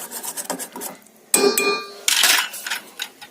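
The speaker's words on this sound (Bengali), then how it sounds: "এবার একটু ভালো করে নেড়ে দিই।" Green tea being stirred in a pot of boiling water: brisk scraping and rubbing strokes, with a metallic ring as the utensil knocks the rim, close and loud.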